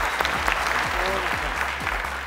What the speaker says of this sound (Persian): هر دویشان رو تشویق کنیم